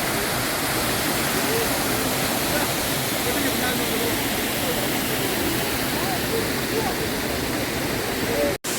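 Abbey Falls waterfall in Coorg roars with a loud, steady, broadband rush of falling water, close and unbroken throughout.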